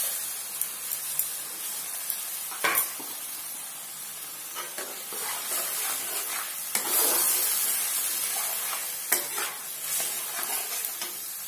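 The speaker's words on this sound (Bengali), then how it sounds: "এখন আমি টমেটো বাটাটাও দিয়ে দেবো।" Tomato paste goes into a hot frying pan while making chana masala, giving a steady close sizzle with scraping stirring strokes and occasional louder bursts, no talking.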